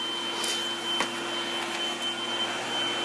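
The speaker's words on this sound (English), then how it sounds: "Vacuuming!" A household vacuum cleaner runs continuously with a steady droning whir and high tonal whine, close and loud, with a brief bump partway through and no speech.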